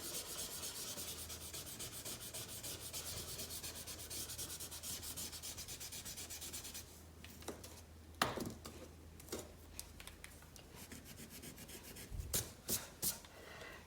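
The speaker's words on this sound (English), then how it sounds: "I'm going to clean it up with my white vinyl eraser" A white vinyl eraser rubs steadily across a pencil drawing of a mouth in close, continuous strokes, pauses, then comes back in a few short bursts.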